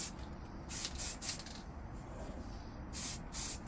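Aerosol spray paint misted in short bursts as a light first coat onto a 1/14 scale Tamiya Grand Hauler model truck cab, several hissing puffs with pauses between, close and fairly quiet.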